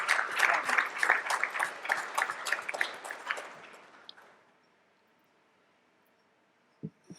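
An audience at a members meeting claps steadily for about four seconds, then the applause fades into near silence, with a couple of faint bumps afterward.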